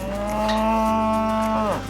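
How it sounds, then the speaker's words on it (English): A single cow gives a loud, close, sustained moo on a farm at chore time, one long tonal call lasting nearly two seconds with no voices over it. "I let the cows out"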